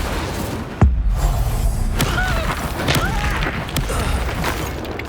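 Incendio fire spell cast in the Hogwarts Legacy video game, a sudden booming thud followed by crackling, rumbling combat effects, loud and close.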